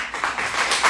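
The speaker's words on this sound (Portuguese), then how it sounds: "Aplauda a palavra." Catholic congregation applauding during a sermon, a dense steady wash of many hands clapping close and moderately loud for about a second.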